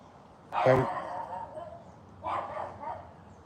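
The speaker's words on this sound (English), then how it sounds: "Got the neighbor's dog barking over there." A dog barks twice at a distance, a sharp single bark and then a softer one, over faint outdoor background noise.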